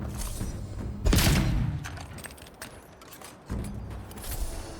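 Spiders are shot with a gun in the video game Avowed, with a loud booming blast followed by a decaying rumble, softer clatter and creaks, then a second heavy hit, and no speech.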